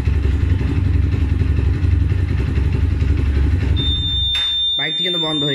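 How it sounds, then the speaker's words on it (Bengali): A motorcycle fitted with a phone-controlled anti-theft cut-off idles with a loud, steady rumble that stops abruptly after about four seconds, followed by a short electronic beep and a voice. "বাইকটি কিন্তু বন্ধ হয়ে গেল এখান থেকে"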